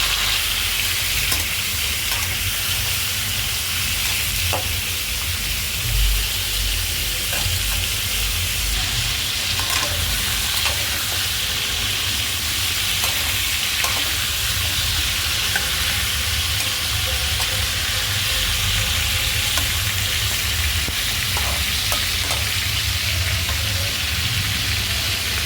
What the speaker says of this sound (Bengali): আর আমি এগুলো চিকেনগুলো হালকা করে ভেজে নেব।